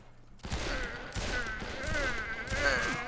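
Old-west gunfire in Fistful of Frags, several sharp shots cracking in quick succession at close range with some ringing echo.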